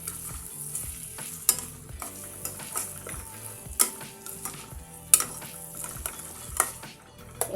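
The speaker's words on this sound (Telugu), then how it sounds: "ఇంక ఇప్పుడు ఇందులో టమాటా పేస్ట్ వేసుకోండి దీన్నంతా మొత్తం బాగా కలబెట్టేసుకోండి" Chicken macaroni being stirred with tomato paste in a frying pan, a steady sizzle under repeated scraping and clinking of a spoon against the pan, close and moderately loud, with no talking.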